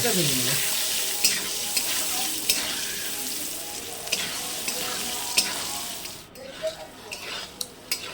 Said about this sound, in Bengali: আলুগুলো ভাজা হয়ে গিয়েছে